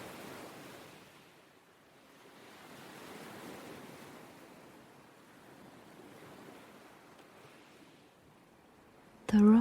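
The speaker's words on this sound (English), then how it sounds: "the white foam of the waves as they crash against the shore" Ocean waves washing and crashing on a black volcanic stone beach, a continuous soft surging roar with gentle swells, heard alone, ending in a brief louder bump.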